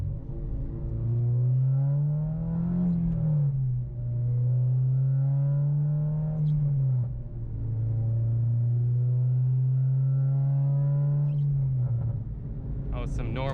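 Acura RSX with a custom exhaust pulls hard through the gears, the engine note climbing steadily, dipping at each shift, then rising again, loud and close with a sharp burst near the end.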